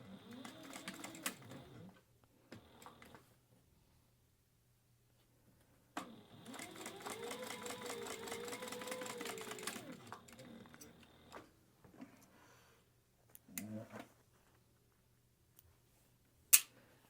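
A sewing machine stitches a half-inch seam down the side of a cotton tea towel topper, running in a few short bursts and one sustained four-second run, close and clear with pauses between.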